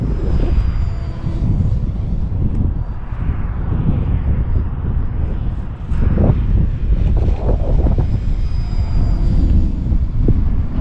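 An RC Sbach stunt plane flies at full throttle on a windy day, its steady engine drone mixed with heavy wind buffeting on the microphone, rising and falling slightly as it maneuvers.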